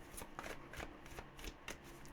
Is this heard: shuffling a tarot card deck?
yes